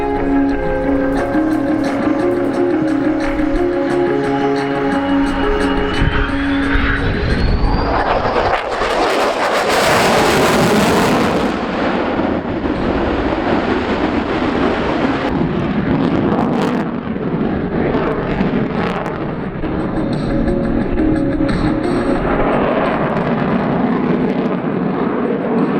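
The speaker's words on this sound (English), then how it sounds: "this brief display of a fraction of F-22 full combat capability" An F-22 fighter jet roars past in an aerobatic display at the Avalon Airshow, a loud sustained jet rumble with a rising whine and a sharp peak as it passes, staying strong to the end.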